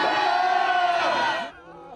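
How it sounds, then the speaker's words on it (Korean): Crowd supporting President Yoon erupting in cheers and shouts at news that a court cancelled his detention, a loud dense roar of many voices that holds steady, then drops off abruptly to a quieter murmur. "법원이 윤 대통령 구속 취소 결정을 내렸다는 소식에 환호성이 터집니다"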